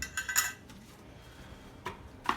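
A mess kit of bowl, thermos and silverware packed together gives off a few light metallic clinks and rattles, loudest near the start and with a final chink at the end, close by and without speech.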